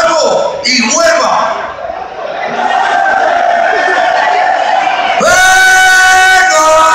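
A large crowd at a live concert roars, shouts and yells loudly throughout, with whoops and sustained bellowing, swelling to a louder burst of cheering near the end.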